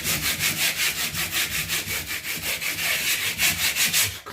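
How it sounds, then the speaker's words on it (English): A soft shower pan is hand sanded with 120 grit paper to scuff the surface, giving a rhythmic back-and-forth rasping of quick, even strokes, close and continuous with no voices. "I'm actually going to scuff it up a little bit with this belt sanding paper I have"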